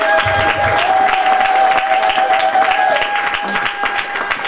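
A church congregation applauding together, a loud, sustained wash of clapping that swells and then thins slightly toward the end.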